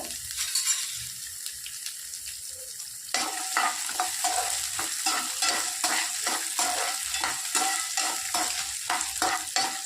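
Dried red chillies crackle and sizzle in hot oil. After a quiet start, the frying grows suddenly louder and keeps up a busy, continuous spatter close by.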